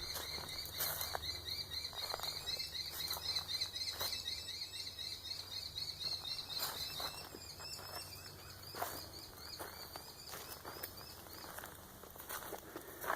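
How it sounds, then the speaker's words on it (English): Chirping birds and shrill insect trills ring out outdoors, with a few scattered footsteps and taps, fairly quiet and distant. "You can hear the birds."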